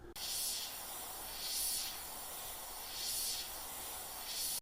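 An airbrush sprays coats of green paint onto a sunflowers and blue sky painting, giving a steady close hiss that swells in regular bursts about every 1.5 seconds.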